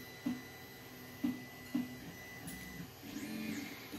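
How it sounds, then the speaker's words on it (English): A 3D printer extrudes a purge line along the edge of the bed to clear its nozzle, giving a few short whirring stepper-motor pulses, then a longer steady whine, fairly quiet. "So it just extrudes a line on the side there. To clear the nozzle, good idea."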